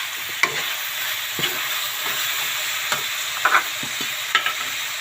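Meat sizzles steadily in a hot pan at a home barbecue cookout, a continuous bright frying hiss with occasional stirring clicks and scrapes scattered throughout, close and fairly loud with no talking.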